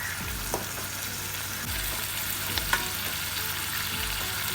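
Garlic French beans frying and being tossed in a pan, a loud continuous sizzle broken by several low scraping tosses at irregular intervals, with no voices.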